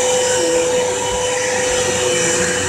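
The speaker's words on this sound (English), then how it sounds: "Vacuum it! Now!" A vacuum cleaner runs loud and steady throughout, a continuous close-up roar with a constant motor whine and no pauses.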